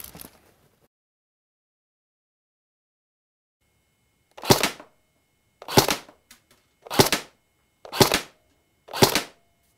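FN Herstal F2000 tactical airsoft electric gun firing downrange, five sharp single shots spaced about a second apart after a quiet pause, close and crisp.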